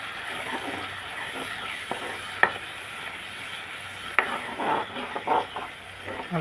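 A pot of small-onion sambar bubbles and sizzles softly up close, with scattered pops and occasional clinks of a spoon against metal, no voices.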